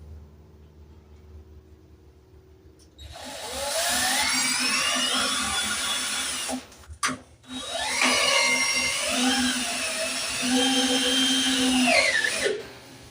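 Screws driven into a wooden trackless toy train with a power driver: two rising, whirring bursts, the first about three and a half seconds, a brief pause, then a second longer run that winds down at the end, no voices.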